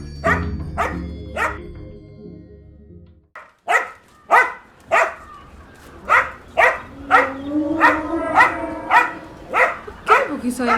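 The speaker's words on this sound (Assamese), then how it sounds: "কেলে ভুকিছ ইমান?" A dog barks in a quick, steady run of about a dozen loud, close barks, with a voice speaking faintly underneath.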